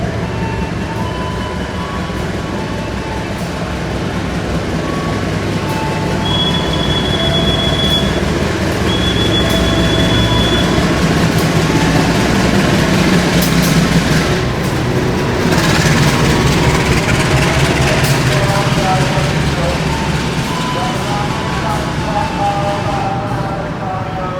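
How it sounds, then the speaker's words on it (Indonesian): The Sancaka Utara passenger train pulls into a platform at Yogyakarta station, a loud sustained rumble of rolling wheels and carriages with faint metallic squeals and tones riding over it, steady throughout the long approach. "Oke, ini dia kereta api Sancaka Utara masuk."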